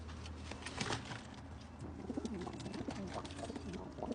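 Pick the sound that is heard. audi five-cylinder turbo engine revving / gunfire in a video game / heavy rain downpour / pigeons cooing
pigeons cooing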